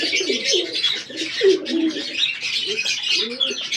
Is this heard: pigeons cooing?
yes